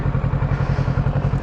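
A motorcycle engine thrums with a steady low pulsing beat while being ridden, loud and close throughout with no talking.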